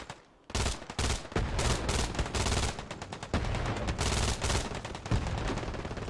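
MG42 machine gun fire in the Hell Let Loose video game, long rapid bursts of dense automatic gunfire at close range, loud and continuous with short gaps between strings of shots.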